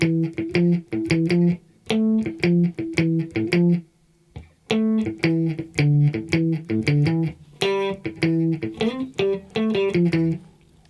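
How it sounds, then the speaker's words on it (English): An electric guitar plays the lower harmony line of a song, with short, clipped repeated notes in rhythmic phrases and a brief pause near the middle, close and clear with no talking. "So the second half of the lower harmony would sound like this"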